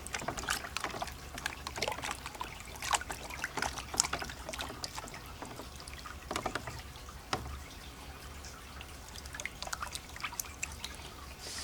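Pay dirt dumped into a water-filled gold pan for gold panning: quiet close trickles, drips and sloshing splashes in irregular bursts, with no talk.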